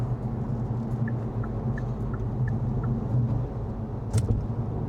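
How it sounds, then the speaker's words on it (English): Low, steady road rumble from a 2023 Hyundai Kona N's tyres rolling on pavement, heard from inside the moving car, with faint ticking and a soft click near the end. "You can hear a little bit of tyre noise."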